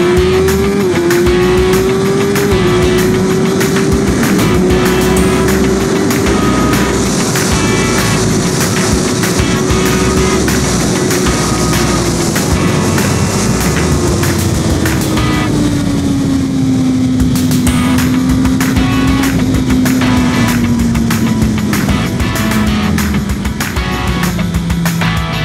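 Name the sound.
Suzuki GSX-R 1000 R motorcycle accelerating on race circuit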